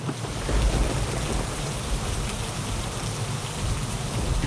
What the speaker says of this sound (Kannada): ಮತ್ತೆ ಜೋರಾಗಿ ಮಳೆ ಬೀಳಕ್ಕೆ ಶುರುವಾಗಿದೆ